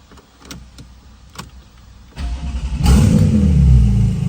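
A Porsche 911 991.2 GT2 RS with an aftermarket exhaust cranks to life with a loud throaty exhaust roar, then revs hard and stays loud and close.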